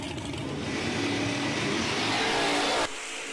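At a drag strip, a GMC Canyon and a supercharged Fox body Mustang launch side by side, a loud sustained engine roar that swells steadily before cutting off abruptly near the end, leaving a quieter background rumble.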